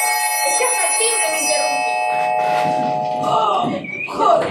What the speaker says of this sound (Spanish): es que hasta el timbre